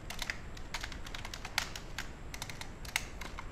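A computer keyboard is typed quietly and steadily while HTML for a Bootstrap portfolio website is written. Soft, rapid key clicks sit over a constant low room hiss, with no voices.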